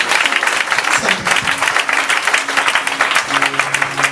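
A church congregation applauding and cheering during a sermon, steady loud clapping close up throughout, with a few voices calling out above the crowd.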